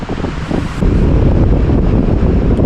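Loud, roaring wind buffets the microphone on a cold winter evening at the Salmiya seashore in Kuwait, with a steady rush that swells after the first second, like surf and gusts on an open beach.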